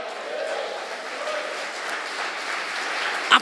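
Congregation at a Sunday celebration church service applauding, a steady wash of clapping filling the room at an even level for a few seconds, with a voice briefly rising near the end.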